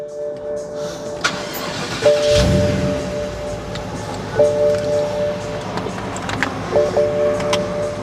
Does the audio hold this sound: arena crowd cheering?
no